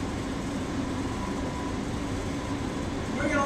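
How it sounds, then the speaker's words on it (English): Low steady rumble from a supply boat's bow thruster as it cranks over in a canal, a dense continuous drone holding for a few seconds with a faint rising tone near the end. "cranking over the bow thruster. You can hear a little rumble."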